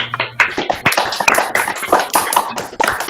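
A small group claps to thank the speaker at a mathematics seminar, giving a few seconds of loose, uneven, close-miked applause.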